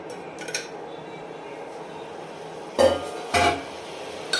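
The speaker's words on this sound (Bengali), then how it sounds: "ডিম দিয়ে একটু কিছুক্ষণ নাড়াচাড়া করে প্রেসার কুকারের ঢাকনাটা দিয়ে ঢেকে দেবো।" Eggs being stirred in a pressure cooker pot make a few sharp metallic clinks and scrapes, two louder ones close together near the end, over a quiet kitchen background.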